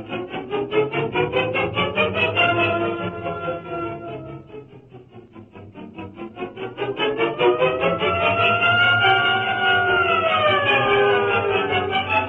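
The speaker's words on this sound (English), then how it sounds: "Call an ambulance, Miss Case." A wailing emergency siren, as from an ambulance, rises and falls in repeated sweeping cycles, loud and steady throughout with no voices over it.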